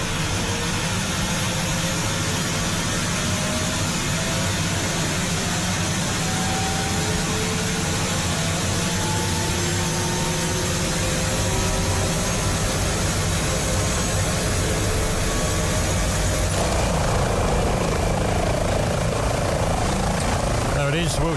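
Airbus H145 helicopter in Microsoft Flight Simulator 2020 as its second engine starts, a loud steady turbine whine and rotor drone with rising tones that swells near the end, while someone talks over it.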